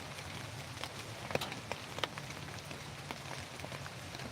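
Rain falling in the woods around a hammock, a soft, even patter with occasional heavier drips, faint and steady with no voices.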